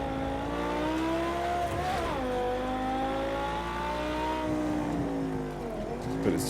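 A Porsche road car from the Porsche Legends pack in Project CARS 2 revs hard and accelerates through rising and falling gear pitches, the loud engine droning steadily up close.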